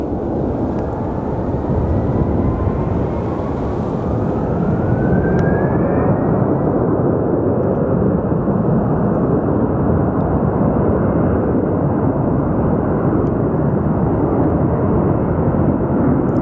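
A loud airplane flying near Sky Harbor Airport, its roaring engine noise continuous and close throughout, with a thin rising whine early on.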